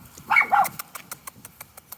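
A dog gives a short bark close by, followed by light rhythmic tapping or panting sounds.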